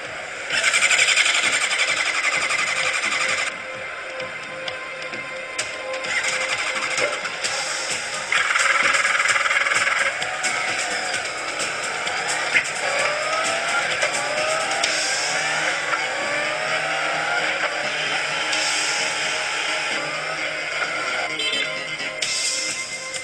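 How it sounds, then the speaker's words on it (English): Honda CBR 1000 RR motorcycle engine running on a factory test platform during final inspection, a steady loud mechanical drone with shifting revs and whine rising and falling throughout, no voices. "each finished motorcycle is fired up for the first time and ridden onto a special test platform."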